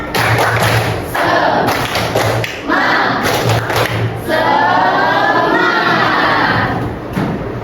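A group of children at a school claps the Indonesian 'tepuk semangat' spirit clap, with bursts of rhythmic clapping and thumps separated by short pauses and a little crowd noise.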